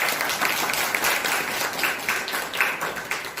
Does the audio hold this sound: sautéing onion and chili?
no